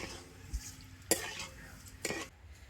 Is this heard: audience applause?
no